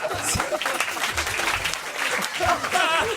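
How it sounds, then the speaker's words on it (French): Applause from a theatre audience during a comedy show with a comedian, a broad steady clapping wash lasting about three seconds, mixed with talk and laughter. "Attendez, 2 secondes, arrêtez d'applaudir."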